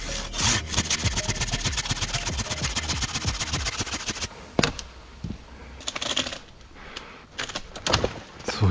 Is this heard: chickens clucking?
no